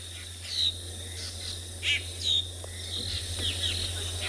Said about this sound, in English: There are lots of birds calling. Drongos. Mostly drongos.